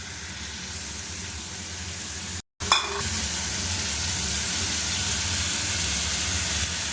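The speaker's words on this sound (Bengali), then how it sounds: "আর এর ভেতরে একটু কাঁচা লঙ্কা দিয়ে দিচ্ছি" Steady, loud sizzling of green chillies frying in hot oil, broken by a brief silent gap and a short clatter before the crackle resumes.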